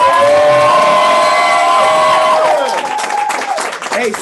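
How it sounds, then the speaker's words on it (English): Room audience at a motivational event breaking into another round of applause, starting under a loud sustained music or feedback tone that fades, then scattered sharp claps and crowd noise rising near the end. "Give him another round of applause"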